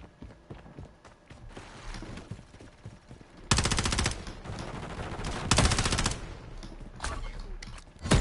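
Heavy automatic gunfire from a Call of Duty multiplayer match, with rapid bursts and loud, dense volleys of shots, some rattling in the background and two especially loud sustained bursts up close.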